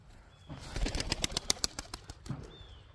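A tossed pigeon takes off in a rapid run of loud wingbeats lasting over a second, close by, with faint outdoor ambience before and after.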